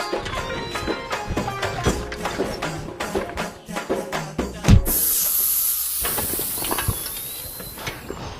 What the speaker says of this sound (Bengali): দেখতেছি আপা চাক্কা তো পাঞ্চার হয়ে গেছে